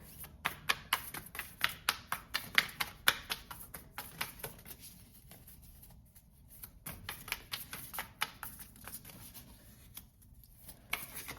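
Moonology oracle cards being shuffled, a quick run of crisp riffling taps and flicks close up, fairly quiet, pausing briefly midway before the soft slapping resumes.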